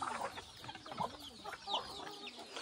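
Several desi (free-range village) chickens cluck and chatter nearby in short, overlapping bursts, with a quiet farmyard background on a poultry farm.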